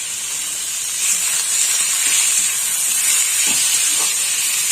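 Fresh peeled small shrimp with heads left on go into frying onions and sizzle, giving a continuous bright hiss that swells slightly after a second and stays steady, loud and close with no voices.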